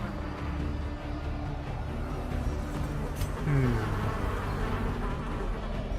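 Thronging hives drone with a steady, dense insect-like buzzing in the game Darkest Dungeon, a continuous hum with a brief swelling sweep near the middle.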